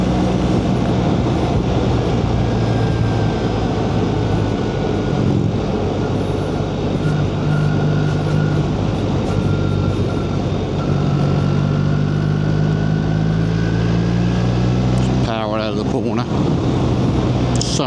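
A BMW R1300 GS Adventure motorcycle with shaft drive rides through traffic at steady speed, its engine drone loud and continuous with wind roar, and a brief gear change or rev shift near the end.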